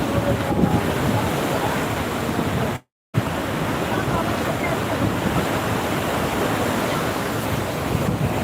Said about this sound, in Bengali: উত্তাল রয়েছে সমুদ্র